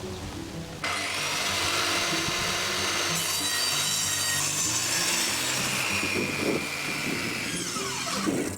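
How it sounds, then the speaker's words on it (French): Wooden floor planks are sawn from the reverse side, giving a loud, steady, close cutting noise with a harsh rasping edge. It starts after a short quieter moment and keeps going almost without a break. "C'est pour cette raison qu'il faut toujours découper les lames sur l'envers."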